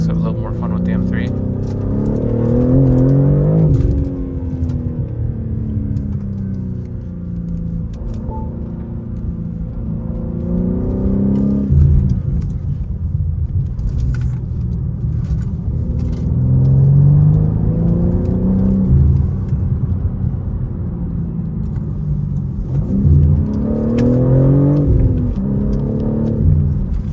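A BMW M3 engine revving while driving, with repeated rising and falling pulls of engine note and rumble over about half a minute, close and loud inside the car.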